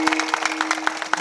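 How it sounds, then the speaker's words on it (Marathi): Scattered claps from an audience at a devotional kirtan, rising in short bursts over a steady sustained drone. "जरा जोरात टाळ्या होता ना, जोरात."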